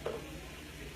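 Olive oil sizzling in a hot pan over a medium flame, a faint, steady crackling hiss with a brief sharper pop at the start, close but quiet.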